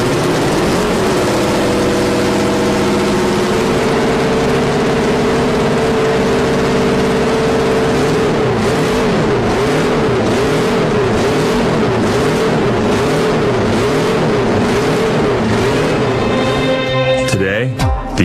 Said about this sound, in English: The sound of 4 small cylinders firing at incredibly high speeds.